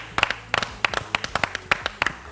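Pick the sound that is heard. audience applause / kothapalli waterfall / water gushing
audience applause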